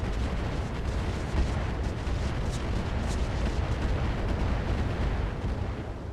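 Mech weapons firing at a Marauder in the RogueTech game, a dense continuous roar of booming blasts and rumbling impacts sustained loudly throughout, with no talking.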